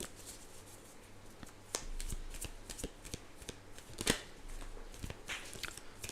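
Tarot cards being shuffled at close range, a run of crisp riffling slaps and flicks with a few sharper snaps, no talking.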